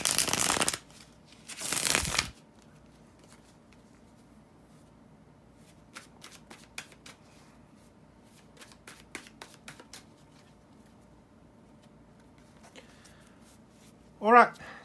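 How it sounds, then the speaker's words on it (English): Tarot cards being shuffled by hand, two loud riffling bursts at the start, then softer scattered card taps and slides, ending with another quick shuffle. "bear with me just a couple of seconds, guys, to shuffle the tarot cards"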